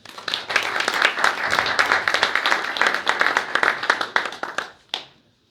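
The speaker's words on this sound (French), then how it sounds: "si vous voulez bien l'applaudir" Applause at a conference on digital tools and energy efficiency in buildings, with distinct individual claps giving a choppy, uneven rhythm that thins out and stops with a final clap near the end.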